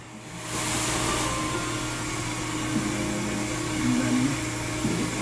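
Hair dryer blowing on transitioning natural hair: a steady, loud whooshing drone that starts after a brief moment and continues throughout, with small shifts in tone as the dryer moves and no talking.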